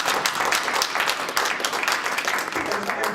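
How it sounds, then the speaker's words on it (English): An audience at an anti-violence artist platform event claps in a dense, sustained round of applause that fills the room and keeps a steady, full level throughout. "Can we give him a round of applause,"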